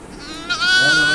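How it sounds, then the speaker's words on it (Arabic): A sheep bleats loudly and close by, one drawn-out quavering cry swelling halfway through, heard alone as it is fetched for slaughter at Eid al-Adha. "يلا روح هات الخروف عشان نذبحه."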